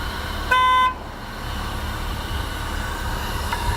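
A ladder truck's overload horn sounds one loud, steady honk lasting under half a second, warning that the ladder has dropped below a 60-degree angle, then cuts off into a low outdoor rumble.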